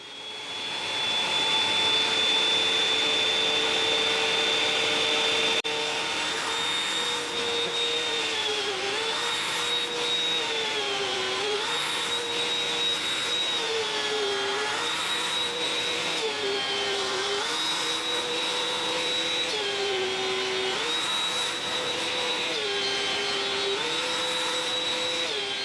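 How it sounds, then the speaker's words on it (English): A benchtop thickness planer runs steadily with a loud whining motor hum as a board feeds through, the pitch dipping briefly again and again under load across repeated passes. "I can run it through the planer and get that one nice flat surface"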